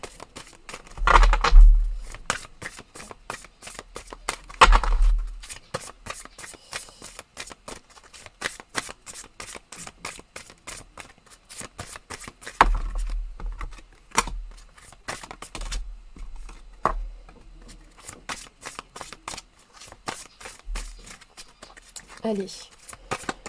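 Tarot cards shuffled and drawn during a French-language reading, giving quick papery riffles and flicks with a few louder slaps, set against steady close speech.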